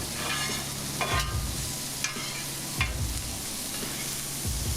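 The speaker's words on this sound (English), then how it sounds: "Then of course, you know we got to give it a mix." Salted vegetables sizzle steadily on a small grill while a utensil stirs them, adding a few scraping strokes over the constant close frying hiss, with no talking.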